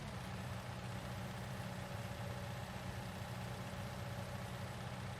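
A tractor engine idles in Farming Simulator 19 on the Ravenport map, a steady low droning rumble with an even mechanical hum that holds at one level throughout, with no talking.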